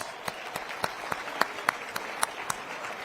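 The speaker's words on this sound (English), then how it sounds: "So let's give them a round of applause." A round of applause for sponsor Wells Fargo at a forum reception and dinner, a thin, moderate clapping with a handful of distinct sharp claps spaced across a steady wash of hands.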